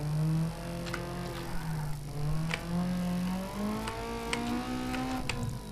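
Car drifting in the video game Need for Speed, with a sustained engine drone that rises and falls in pitch, plus faint intermittent tire squeal and clicks throughout.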